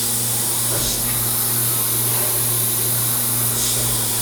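A CanCam Z540 vertical machining center runs a tool change to tool 19, a steady loud machine hum and hiss with a brief rise near the start and another swell toward the end, no talking.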